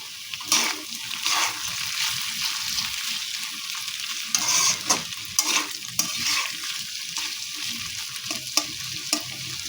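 Thinly sliced onion being stirred into drumstick flowers frying in a pan, a continuous sizzle with scraping spatula strokes and intermittent stirring bursts, close and alone without speech.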